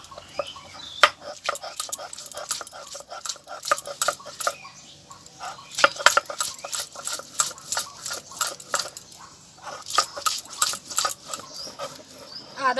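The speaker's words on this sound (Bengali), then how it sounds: "এই রসুন, এই আদা, এই একসাথে আমি বেটে নেব।" Garlic and ginger being ground together by hand, a run of sharp scraping and knocking strokes in an irregular rhythm, close and fairly loud, with short pauses between bursts.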